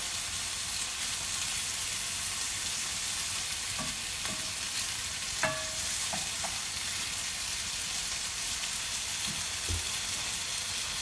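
Spicy Italian sausage sizzles quietly in an oiled pan with a steady crackling hiss, broken by a few light clinks and scrapes as it is stirred.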